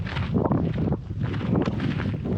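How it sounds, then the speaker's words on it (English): Strong gusty wind at the Devil's Marbles campground, buffeting the microphone with rumbling, uneven bursts and no quiet breaks. "It's really windy and there's heaps of flies."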